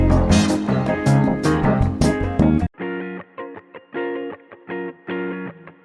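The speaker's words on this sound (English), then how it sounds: "So now there's a guitar that enters." A guitar enters a soul sample: dense, saturated music plays for a few seconds, then cuts to a sparse run of repeated chord stabs with short gaps between them.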